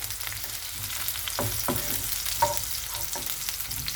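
Onions caramelizing in a pan with zucchini and mushrooms give a steady, close sizzle, with a few sharp stirring scrapes and clicks from a utensil over four seconds.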